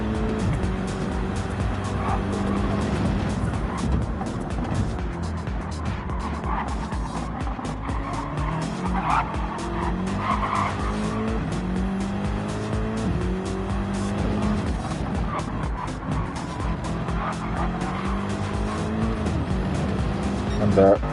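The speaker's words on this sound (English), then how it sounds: "That's Finnegar trying to overtake the Porsche ahead of him." Race cars, including a Porsche, fighting for position in a GR3-class racing video game, with a constant roar of engines, shifting pitch and tire squeal beneath continuous commentary.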